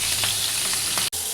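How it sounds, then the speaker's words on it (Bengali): Hilsa fish frying in hot oil, a continuous close sizzle with brief crackles and a short break near the end, no voices. "মাছটা ভালো করে ভেজে নিচ্ছি আগে"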